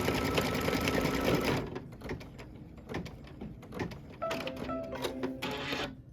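An embroidery sewing machine stitching a pickup truck quilt block, pulling up bobbin thread, hums with rhythmic needle clicks, loud at first, then quieter intermittent stitching and tapping.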